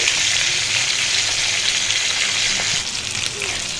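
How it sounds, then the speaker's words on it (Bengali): Rupchanda (pomfret) fish frying in hot oil in a pan, a loud, steady, close sizzle that holds throughout, easing slightly near the end. "তেলটা গরম হওয়ার পরে আমি মাছগুলো দিয়ে দিলাম"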